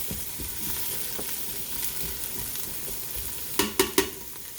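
Cheesesteak filling sizzles steadily in a hot pan, close and continuous, with a few sharp spatula scrapes near the end.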